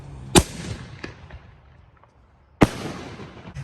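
Fireworks going off outdoors at night around midnight on the 4th of July, two sharp loud bangs about two seconds apart with a fainter pop and crackle between them, no talking.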